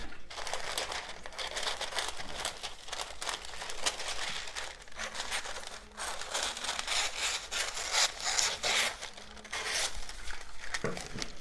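Scissors snip steadily through baking paper lining, trimming it to the depth of a cake tin while preparing a Jamaican fruit cake, with continuous crinkling and rubbing of the paper close by.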